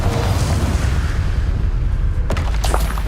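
A Confringo blasting curse in the Hogwarts Legacy video game erupts as a loud, sustained explosive rumble with a sharp crack near the end, alone without talk.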